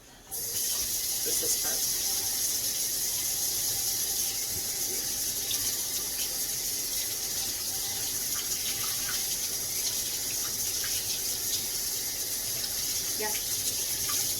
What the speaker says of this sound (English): Okay, rinse it.